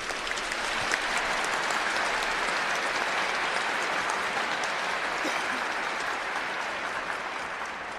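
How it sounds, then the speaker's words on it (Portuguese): Sustained applause from a large congregation inside São Paulo's Sé Cathedral during a funeral Mass, a dense, steady roar of clapping that fills the reverberant space for the whole stretch. "Para o nosso cardeal, uma salva de palmas por essa caridade."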